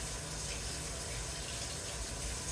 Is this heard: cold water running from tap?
yes